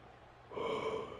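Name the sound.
yawn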